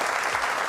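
A studio audience breaks into dense, steady applause, a brief loud burst of many hands clapping at once.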